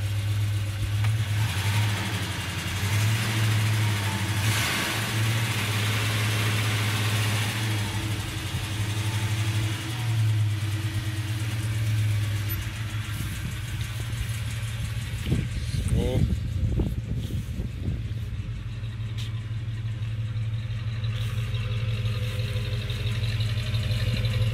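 A US pickup truck's engine idles steadily in park, its low, even rumble broken by a short burst of revving about two-thirds through, then settling back to idle.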